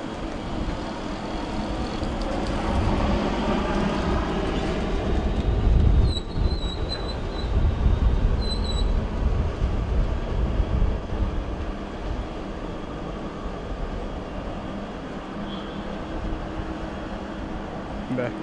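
A passenger train runs through a station platform at Manchester without stopping, a loud continuous rumble of wheels and carriages with brief high squeals, under a voice speaking.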